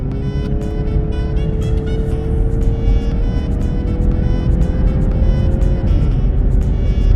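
Mazda CX-9 Signature on a test drive with slightly worn parts, a steady engine hum and road rumble continuing loud and close throughout, with a tone that rises slowly then drops near the end.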